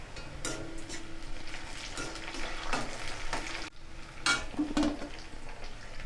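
Curry leaves hit a pan of softened sautéed onions for an egg and drumstick aviyal, crackling and sizzling steadily with a few spoon scrapes and clinks against the pan.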